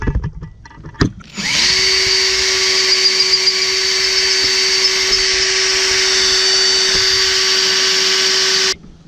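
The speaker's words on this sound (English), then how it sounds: "targeting my hole to be drilled in there" A power drill bores a hole in a van's frame to mount solar panels, starting after a brief clunk with a loud, steady high whine held for about seven seconds before cutting off.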